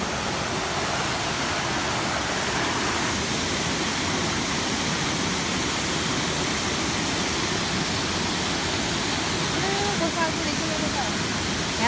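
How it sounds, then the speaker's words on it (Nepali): A waterfall and flowing stream at Bijepur, a steady broad rush of water that fills the whole scene at constant loudness, with voices faintly mixed in. "ए झर्ना कस्तो राम्रो रहेछ। खोला खोला"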